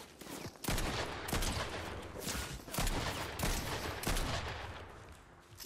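Bursts of gunfire in Fortnite aimed at a tree, several loud volleys of rapid shots spaced about a second apart, close and sharp over a noisy background.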